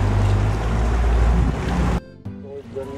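A boat motor on a lake in an Orlando suburb rumbles loudly with wind and water noise close to the microphone, then drops off abruptly, leaving a quieter hum.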